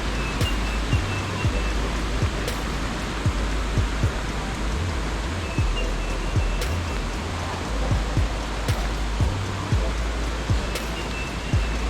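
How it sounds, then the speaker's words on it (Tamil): Lesmurdie Falls waterfall pours in a steady, loud broadband rush of flowing water, dense and continuous near at hand, with faint low rumbles and occasional sharp clicks beneath. "ஆஹா, அழகாக இருக்குது தண்ணி ஓட்டம்."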